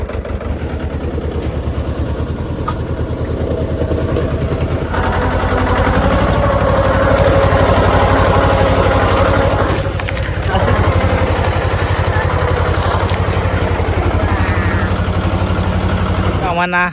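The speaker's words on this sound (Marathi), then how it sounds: "सगळ्यांनी ट्रॅक्टर चालवला आज आम्ही महेंद्रा" A Mahindra tractor engine runs steadily throughout during wheat sowing, a low constant chug with faint voices in the background.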